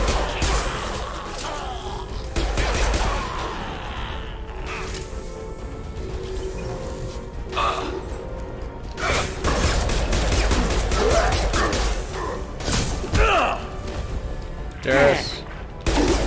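Sci-fi weapon fire from the video game Mass Effect 2: sustained bursts of shooting and impacts in dense combat, loud and continuous, with occasional sharper blasts and a voice speaking intermittently over the fighting.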